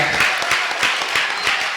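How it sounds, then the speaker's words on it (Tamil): A Tamil debate-show audience claps enthusiastically, a loud, dense wash of applause with regular rhythmic pulses running steadily throughout, close and full with no talk over it. "உற்சாகமா இன்னொரு முறை கைத்தட்டிங்க"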